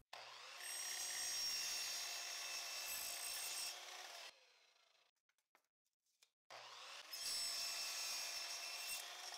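A miter saw cuts lining board into short pieces, with two loud sustained whining cuts separated by a quieter gap of small knocks and handling.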